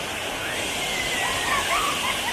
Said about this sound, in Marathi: आता धबधबा चालू झालेला आहे